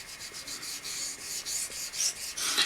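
A knife edge is stroked across a Chinese sharpening stone in a steady run of quick, even rasping passes, close and moderately loud, with no voices.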